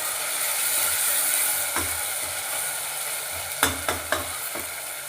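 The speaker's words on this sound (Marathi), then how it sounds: "टाकत आहे आता अद्रक लसूणची पेस्ट। थोडीशी आपण आता परतून घेऊया" Ginger-garlic paste sautéing in a pan, a steady soft sizzle with a few sharp scraping and stirring clicks toward the end, close and alone with no voices.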